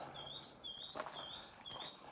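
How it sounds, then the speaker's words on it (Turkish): Small birds chirp in a village street on Gökçeada, a repeated sweeping high tweet heard three times at a steady rhythm, fairly faint and clear over quiet background with no talking. "Bu arada kuş seslerini görüyor musunuz?"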